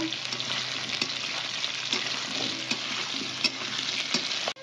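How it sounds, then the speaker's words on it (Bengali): Small chela fish fry with potato and brinjal in a pan, a dense, steady sizzle heard up close with light stirring scrapes and occasional utensil taps throughout. "2-3 মিনিট পর আবার খুলে নিলাম, নিয়ে একটু নাড়াচাড়া করে নেব।"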